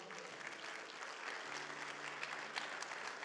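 A church congregation applauds in praise during a Spanish-language sermon, a steady broadband clapping wash throughout, with a faint low hum entering midway.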